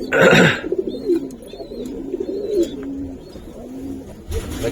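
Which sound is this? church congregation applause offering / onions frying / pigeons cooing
pigeons cooing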